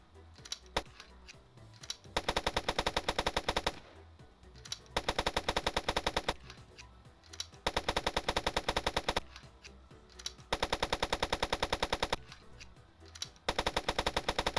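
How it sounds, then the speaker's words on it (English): Machine gun in the Stormworks video game firing in repeated long bursts with short pauses between them, rapid, loud and close. "I'm just sitting here shooting a gun."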